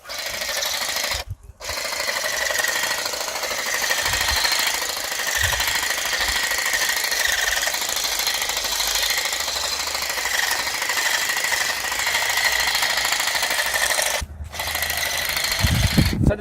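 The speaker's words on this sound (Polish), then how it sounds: "takie drzewko tym, tymi akumulatorowymi nożycami tnę w jakieś 20 minut, 20-15 minut." Cordless battery hedge shears trimming the tips of a pine tree, a sustained buzzing, rasping whir running almost continuously with two brief pauses, close and fairly loud.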